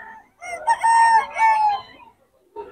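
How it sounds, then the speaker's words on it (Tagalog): A rooster at a fowl sale in Bocaue, Bulacan crows loudly and close, a drawn-out call in several rising and falling segments, followed by a short clucking note. "Ang atin itong manok ni Boss Tomer"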